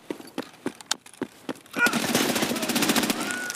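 Several separate sharp shots ring out, then a dense rapid burst of automatic fire from a rifle fitted with an underbarrel grenade launcher in Escape from Tarkov, loud and close.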